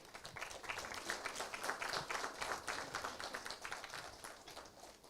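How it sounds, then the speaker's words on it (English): An audience at a mechanical engineering conference applauding a professor's welcome, a faint, steady wash of many hands clapping without pause. "Let us welcome Professor R.K. Pandey with a huge round of applause."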